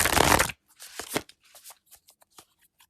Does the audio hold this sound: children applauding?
no